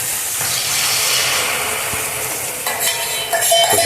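Egg bhurji with onion, tomato, salt and chilli frying in a pan, giving a steady close sizzle and hiss with faint stirring scrapes and a few sharper clicks near the end, with no speech.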